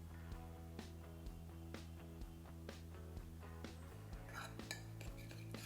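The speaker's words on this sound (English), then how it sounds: "Just mix this both." A utensil stirs almond oil and honey together in a small bowl, producing soft, regular clinks and taps against the dish, faint and close, with a steady hum underneath and no speech.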